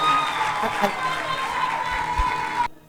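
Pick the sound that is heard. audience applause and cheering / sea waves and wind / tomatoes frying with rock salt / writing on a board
audience applause and cheering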